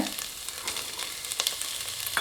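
Garlic sizzling and crackling in a hot pan, with steady frying noise and small pops, close and moderately loud, no talking.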